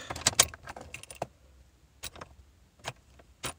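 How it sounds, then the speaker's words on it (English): A key jingles and clicks as it turns in the ignition of a car that fails to crank, a few light metallic rattles and taps, quiet and close, with no engine sound following. "Let's see what happens when we turn the key"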